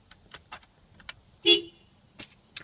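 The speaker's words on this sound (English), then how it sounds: "the horn is actually located right down here" Short horn toots from a Toyota Supra, a few brief blasts with one louder, longer honk in the middle, interspersed with light clicking sounds.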